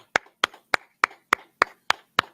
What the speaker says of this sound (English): clap it up, Israel.